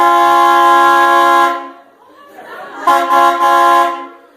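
A loud, sustained train horn blares for over a second, stops, then sounds again after a short pause, with faint voices murmuring in between.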